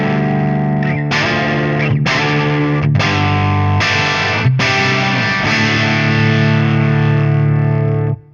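An electric guitar through an amplifier with the bright switch on rings out in loud, distorted chords, struck about once a second before a long sustained final chord cuts off.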